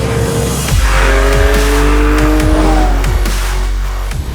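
A Porsche 911 engine revs hard and climbs through the gears on paddle shifters, loud and close, with a repeating pattern of rising pitch sweeps broken by quick drops at each shift. No one speaks over it.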